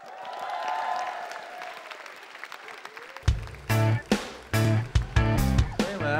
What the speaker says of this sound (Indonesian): Tepuk tangan untuk Mas Wisben.